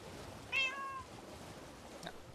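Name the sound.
cat meowing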